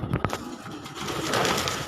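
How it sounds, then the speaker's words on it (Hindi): Soft pigeon cooing on a rooftop in Multan with a couple of brief thumps at the start, heard against a light background hum. "पहला कबूतर"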